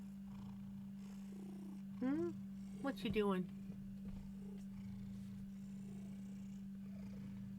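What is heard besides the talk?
cat chirpy purring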